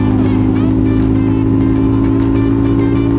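Honda CBR600RR sport motorcycles idle and ride by at a beach stop, a steady loud engine drone with a strong low hum and faint rising revs, continuous throughout.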